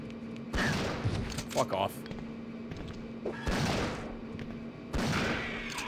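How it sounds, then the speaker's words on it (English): Slow shotgun blasts from the video game Resident Evil 3: Nemesis, a few loud booming shots spaced about three seconds apart under game music, with a person talking over them. "This shotgun fire is real slow."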